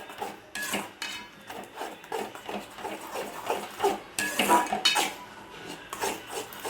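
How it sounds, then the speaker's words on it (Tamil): Egg rice being stirred in a pan with a spoon, giving a steady run of scraping, clinking strokes against the pan, close and fairly loud with no talk. "இதை நல்லா கிண்டிக்கிட்டு இதில் சாதத்தை போட்டு கிளறி கொடுத்துக்க வேண்டியதுதான்"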